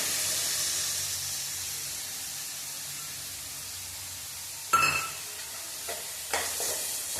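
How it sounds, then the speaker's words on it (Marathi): Chopped onions (two medium, finely cut) frying in a pan over a medium gas flame with asafoetida, giving a steady bright sizzle, then louder stirring scrapes and clatters near the end. "आता आपण कांदा घालूया"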